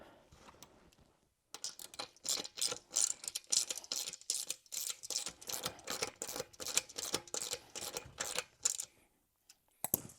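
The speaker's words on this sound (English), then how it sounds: "putting a nut and a washer on" A ratchet wrench tightens a nut and washer during a 2024 Jeep JLU hard-top part install, a long run of quick close clicking bursts after a brief pause, fading to a few last clicks.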